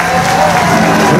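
Crowd applauding at a political rally, dense continuous clapping from a large audience.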